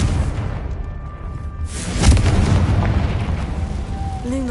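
A Confringo fire spell in Hogwarts Legacy bursts with a loud boom around the two-second mark, leaving a rumbling blast that decays over the remaining seconds against game ambience.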